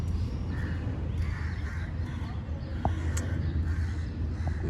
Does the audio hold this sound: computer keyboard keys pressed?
no